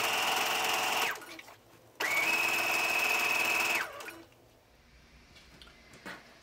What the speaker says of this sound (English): I have my machine on a basting stitch. So I'm going to start sewing